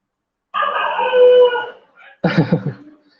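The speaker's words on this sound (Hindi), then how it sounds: "डॉग की आवाज आ रही है" A dog howls in a long drawn-out wail, then gives a short burst of barks and yelps, heard nearby and loud during an online chemistry class.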